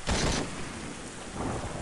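A heavy thunderstorm in the zombie shooter Into the Dead 2, with a loud thunder crack up front that rolls off into a steady roar of torrential rain.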